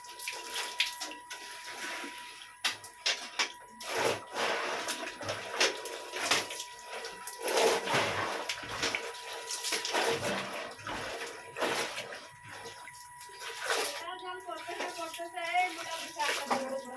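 Tap water splashes and runs in bursts as dishes are washed by hand at a household sink, with clinks and pauses between streams and some voices in the background.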